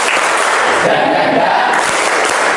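A standing group of teacher trainees at UIN Salatiga performs a spirited clapping chant together, loud and continuous with shouted voices blended into a dense, unbroken crowd noise throughout.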